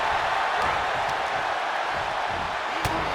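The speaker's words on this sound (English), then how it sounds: "The sound of this crowd is deafening, and he's asking for more." Wrestling arena crowd in the video game WWE 2K22 during a lucha libre match, a steady loud roar of massed cheering filling the whole stretch, with a couple of brief sharp slams or pops standing out.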